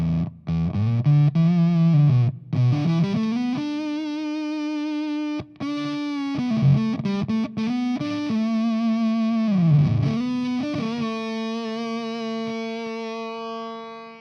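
A heavily effected electric guitar plays sustained notes that break up into a choppy, sputtering distortion as they decay, set by a clipping circuit's bias control, sounding glitchy and retro like old 8-bit video game audio.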